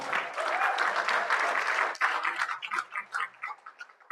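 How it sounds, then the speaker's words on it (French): A crowd claps steadily and loudly at a business pitching session, then the applause thins into scattered individual claps that fade out. "Je vous en prie, sous vos applaudissements."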